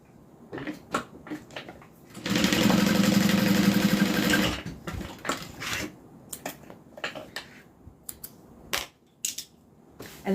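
A sewing machine stitching fabric to repair loose side stitching, running in one loud, steady whirring burst of about two seconds amid scattered handling clicks and rustles before and after.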